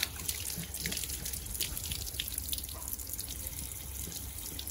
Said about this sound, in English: So let us again use the tap to clean it up. And here we go. Water is coming out.